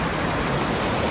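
Broad, steady rush of water pouring out below a dam into a canal, loud and continuous with no talk.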